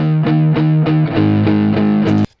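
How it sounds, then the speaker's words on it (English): Distorted electric guitar tracks playing back in a mix, a loud, steady crunchy riff with rhythmic chord hits about every third of a second, alone with no talk, cutting off abruptly at the end. "They sound like the same guitar tone to me."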